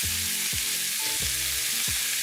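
Meat browns in a thin layer of oil in a pan, a dense, even hiss of sizzling fat with a few low knocks or thuds in the background.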